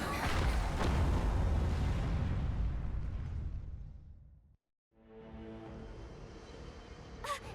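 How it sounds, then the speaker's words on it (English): Explosions erupt in the Honkai Star Rail game: a loud rumbling blast that fades out into a brief silence, then a swell of game music and ambience follows. "Ooh, explosions."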